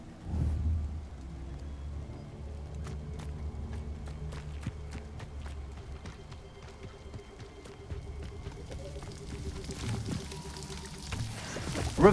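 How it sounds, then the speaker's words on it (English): Waterfall in the Hogwarts Legacy video game: a steady, fairly quiet rushing wash of falling water runs throughout, with soft chiming game-music tones layered over it. "The waterfall."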